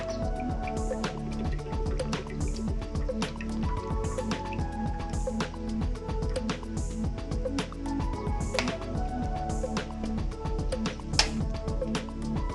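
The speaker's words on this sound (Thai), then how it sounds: "ใส่น้ำมันลงไปในกระทะเลยนะคะ" Cooking oil poured into a frying pan while preparing vegetarian shredded mushroom floss, a busy run of drips and liquid splashes over steady background music, with no talking.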